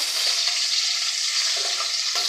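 Bronze featherback fish pieces fry in hot oil over a medium flame, giving a loud, steady, close sizzle that crackles and hisses without pause, with a few faint pops of spattering oil.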